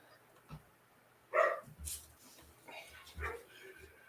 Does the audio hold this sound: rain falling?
no